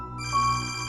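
A mobile phone rings indoors with a steady electronic ringtone, moderately quiet and heard alone for under a second.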